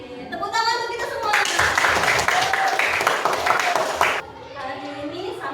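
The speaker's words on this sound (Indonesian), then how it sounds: "Tepuk tangan untuk kita semua." A fifth-grade elementary classroom breaks into loud, dense clapping that lasts about three seconds, with children's and a teacher's voices talking just before and after.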